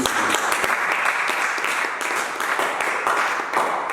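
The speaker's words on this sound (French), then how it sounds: "Acclame les acclame les." A church congregation applauds continuously, a dense, steady wash of clapping that holds for the whole stretch with small swells and no pauses.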